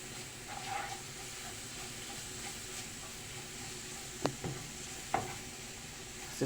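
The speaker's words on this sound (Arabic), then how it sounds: "هنزل بقى بالثومه" Garlic frying in a pan for a baked fish tagine: a low, steady sizzle with a few sharp utensil clinks against the pan, faint and without talk.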